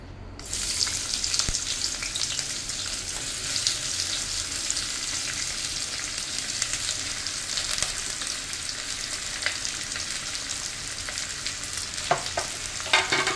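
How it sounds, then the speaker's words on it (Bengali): Onions sizzling steadily in hot oil for a gondhoraj chicken dish, a dense continuous frying hiss with occasional stirring clatter, close and fairly loud throughout, no voices. "তেলটা গরম হয়ে গেছে, আমি পেঁয়াজটা অ্যাড করছি।"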